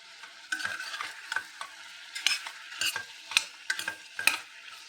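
Vegetable pieces coated in chilli powder and salt fry in a pan, stirred in a series of sharp, irregular scrapes and clatters over a soft, steady sizzle, close by, with no voices.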